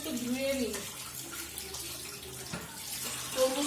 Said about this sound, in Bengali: জল দিয়ে ভালো করে ধুয়ে নিলাম।